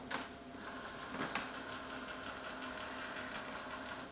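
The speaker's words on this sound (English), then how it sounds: "This printer's connected wirelessly, so just a matter of waiting for it to wake up and print." Epson EcoTank ET-8550 printer waking up, a steady mechanical whir and hum with a couple of soft clicks near the start, close and moderately loud throughout.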